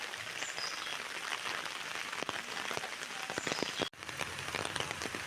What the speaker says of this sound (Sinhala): ටිකක් දුර එද්දී වහින්න පටන් ගත්තනේ.